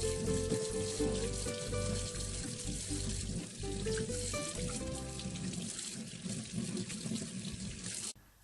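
Water runs steadily from a tap and splashes over lotus root being rinsed, with background music throughout, then cuts off abruptly at the end.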